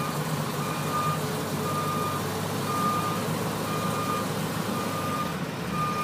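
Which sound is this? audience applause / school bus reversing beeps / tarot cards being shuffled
school bus reversing beeps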